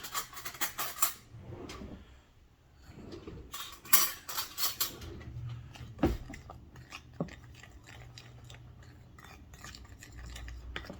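Garlic powder seasoning being mixed in a bowl with a utensil, quiet scraping and clinking strokes in irregular bursts, close and fairly faint, with no talking.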